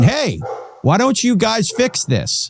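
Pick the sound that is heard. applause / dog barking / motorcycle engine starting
dog barking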